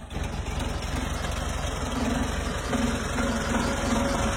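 Engine of a 1979 VW Combi T2b Westfalia camper van with original exhaust, idling with no throttle, a steady low rumbling putter close by with a slight rhythmic pulse.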